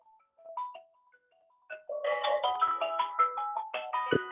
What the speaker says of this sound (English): Can you hear that ringtone,